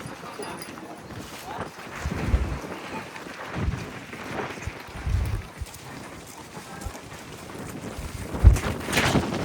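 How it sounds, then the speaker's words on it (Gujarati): Strong wind gusts buffet the microphone on Pavagadh hill near the summit temple, rising and falling in heavy rumbling bursts, with people talking faintly underneath. "ભયંકર પવન આવે છે."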